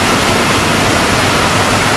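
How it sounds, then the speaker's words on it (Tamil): A small waterfall at a bathing spot near Salem pours steadily with a low flow, giving a continuous broadband rushing hiss that stays close and even throughout, with no voices. "இப்போ தண்ணி ரொம்ப கம்மியாக வருது."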